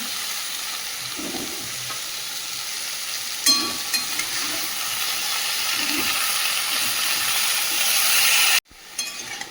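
Crab with vegetable stalks and potato frying in a pan, a steady close sizzle and hiss with a few clinks of stirring, ending in a sudden cut and quieter sizzle.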